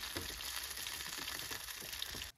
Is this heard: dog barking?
no